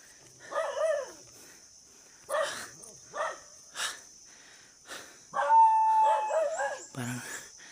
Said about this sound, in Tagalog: Parang may kinakahol yung aso mga lods na mga tao